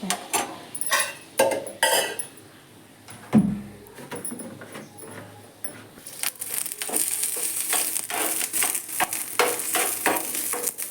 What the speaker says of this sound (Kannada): ಚೆಂದಾಗಿ ಹುರ್ಕೋಬೇಕ್ರಿ ಮೆಣಸಿನ್ಕಾಯಿ